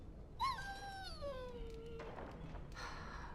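A dog in the fantasy video game Dragon Age Origins gives a single drawn-out, falling whine up close, fading into quiet background after a couple of seconds.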